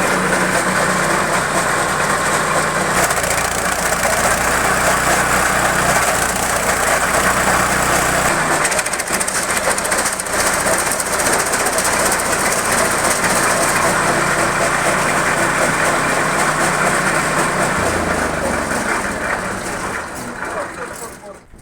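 A homemade branch shredder fitted with an internal combustion engine runs loudly and steadily throughout, its rough droning hum changing pitch partway through, with people talking faintly over it.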